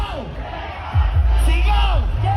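A crowd at an outdoor gathering shouts in loud, rhythmic bursts, voices swelling together into a roaring chant that repeats over a couple of seconds.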